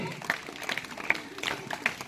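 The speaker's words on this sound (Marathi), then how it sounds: "सर्वांचा टाळ्या" Applause from children and staff at a village primary school's Republic Day celebration, scattered clapping in short bursts while a voice talks over it.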